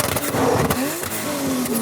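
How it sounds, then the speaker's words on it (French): A drift car screams past at a drift race, its loud engine note rising and falling with a whine as it speeds by close, the roar filling the moment. "Moi j'avais jamais vu une course de drift"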